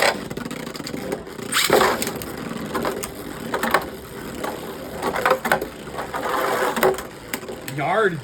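A Beyblade Burst Riptide Rush Forneus top spinning in a plastic stadium, a constant whirring grind with scraping rattles and intermittent sharp clacks, close and loud under an excited speaking voice.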